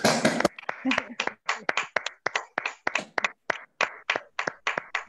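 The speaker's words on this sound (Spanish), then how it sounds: "Los invito a que cada uno de ustedes aplauda al resto" A group claps in loose, irregular bursts, sharp overlapping hand claps repeating for several seconds, some voices briefly audible at the start.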